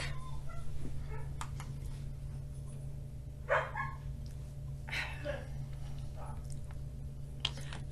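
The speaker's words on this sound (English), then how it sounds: "You're probably going to hear my dogs barking." Dogs barking indoors in a home craft workspace, a few scattered yips and barks at moderate distance over a steady low hum.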